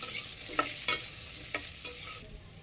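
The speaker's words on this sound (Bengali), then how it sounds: "আমগুলো দিয়ে দিই প্রথমে, হালকা একটু ভাজি করি" Mangoes lightly frying in a mustard seed tempering, with a bright sizzle and several distinct stirring scrapes in the pan that fade toward the end.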